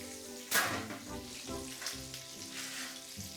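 Hot oil sizzles and crackles steadily around frying chicken, with a sharp burst of spitting near the start and a few louder pops after.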